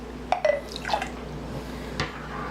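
Hot chocolate peppermint tea is ladled into cups, with a few close, small liquid drips and splashes followed by a quieter pour.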